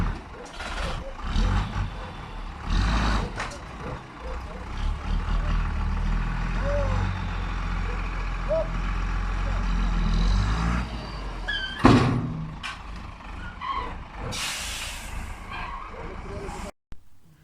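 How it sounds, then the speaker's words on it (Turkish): A truck delivers a load of garden soil at a village house garden in Antalya, its engine rumbling steadily with a sharp hiss and clatter partway through. People speak throughout. "Bahçemize toprak döküldü. Bir kamyon toprak."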